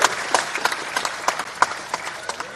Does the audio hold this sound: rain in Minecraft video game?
no